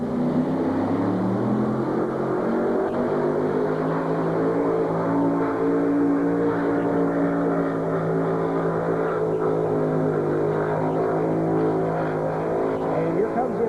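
Excalibur King, John Potts's two-wheel-drive pulling tractor, roars steadily throughout a Morris tractor pull run, a loud sustained engine drone with rising harmonics, while an announcer's voice carries faintly beneath.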